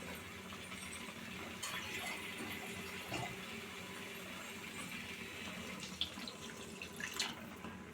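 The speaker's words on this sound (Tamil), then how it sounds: "இப்போ இதில் கொஞ்சமாக தண்ணி சேர்த்துருவோம்." Water is poured steadily into a pan of curry mixture, a soft continuous splashing stream with a few faint drips, quiet and with no talking.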